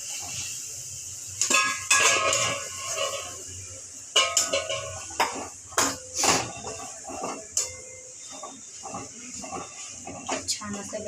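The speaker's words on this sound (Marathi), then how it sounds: "बेसन घालायचं, परतवायचं" Spoon scraping and stirring fenugreek greens with gram flour (besan) in a pan, producing irregular clinks and scrapes close by, with someone talking over the stirring throughout.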